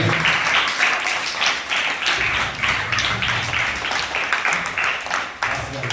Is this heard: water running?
no